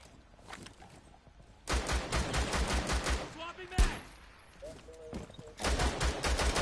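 Bursts of automatic gunfire in Rainbow Six Siege, rapid rhythmic shot volleys separated by quieter gaps, with a sharp single crack midway and voices talking between the bursts.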